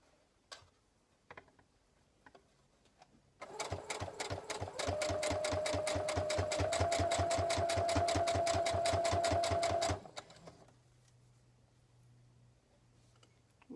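A sewing machine stitches a personalised fabric garland, its needle thumping in a fast, steady rhythm for about six seconds, loud and close, after a few quiet clicks and before a soft hum once it stops.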